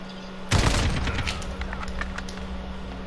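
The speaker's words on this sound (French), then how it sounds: "J'essaie d'en tuer un au petit flingue." A small pistol fired in Call of Duty Modern Warfare multiplayer, one sharp loud report followed by a quick scatter of fainter shots and clicks over a steady low hum.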